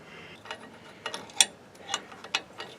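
Wrench tightening a bolt on a sawmill being assembled, giving a series of small metallic clicks and ratcheting ticks over faint background hiss, spaced irregularly and heard up close.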